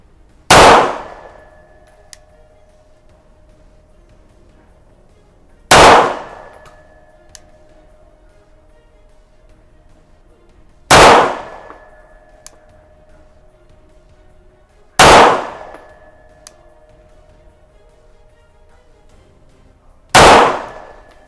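A CZ 75D Compact pistol fires five loud, sharp shots at a range target, one about every five seconds, each with a short ringing decay and near-silence between.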